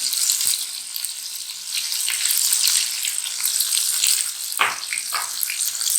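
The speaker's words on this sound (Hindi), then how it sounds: "और खोए को हमने अच्छी तरह से भूनना है" Khoya roasting in ghee over a low flame gives a steady, close sizzle and crackle that runs throughout, with a few soft scraping or stirring knocks and no voices.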